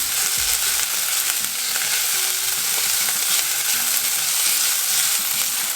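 Crushed garlic and onions frying in a pan for vegan moong dal tadka give a loud, continuous sizzle with faint stirring clatter underneath, close and steady throughout.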